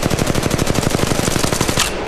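Rapid automatic gunfire empties a full magazine in Apex Legends Mobile, a loud, fast, evenly spaced burst of shots lasting about two seconds before cutting off.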